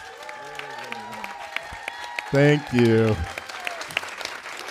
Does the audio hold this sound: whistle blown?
no